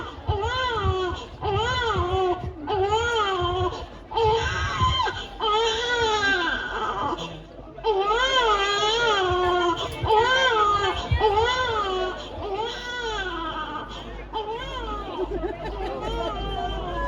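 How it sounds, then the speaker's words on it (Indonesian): A baby's cry rings out during a school theater performance of Timun Mas by a class XI-C at SMAN 3 Pangkalan Bun, loud, sustained wailing that swells and falls over audience chatter. "samar-samar ia mendengar suara tangisan seorang bayi yang perlahan semakin kencang"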